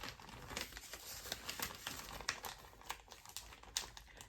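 A plastic bag crinkles and rustles as it is pulled back by hand, a steady close run of crackly crunches with a few sharper snaps, no voices.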